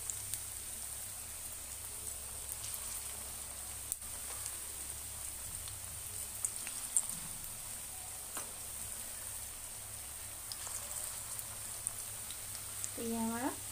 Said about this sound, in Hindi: तो ये हमारा पकौड़ा तलना स्टार्ट हो चुका है